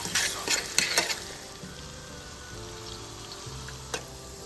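Crushed garlic sautés in three tablespoons of oil in a pan over low heat, a bright sizzle with sharp spatters and stirring scrapes early on that settles into a softer, steady fry.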